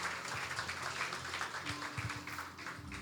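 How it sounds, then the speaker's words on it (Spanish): A church congregation claps for the Lord during a sermon, scattered, fairly faint applause with uneven rhythm and a low hum beneath it, heard for about three seconds. "Denle un aplauso al Señor"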